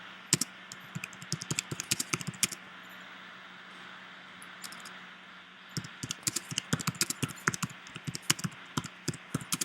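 Keys on a computer keyboard are typed in bursts, a quick run of clicks, then a quiet stretch, then denser rapid clatter, close and fairly soft with no speech.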